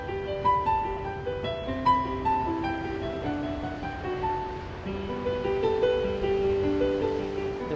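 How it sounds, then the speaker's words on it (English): Ocean waves wash in at a Florida boardwalk, a soft rolling surf that swells toward the end, heard beneath sustained musical tones and steady outdoor ambience. "The waves are crashing."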